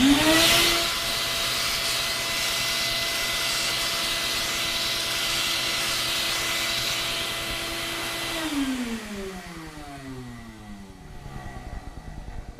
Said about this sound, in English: I'll vacuum off the chips